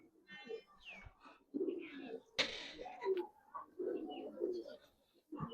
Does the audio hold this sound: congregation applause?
no